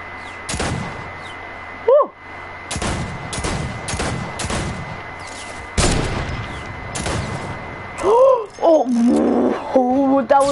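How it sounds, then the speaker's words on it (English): A sniper rifle fires in Fortnite with a few sharp, loud shot bursts among game noise, followed by players talking over each other. "That was my sniper shot."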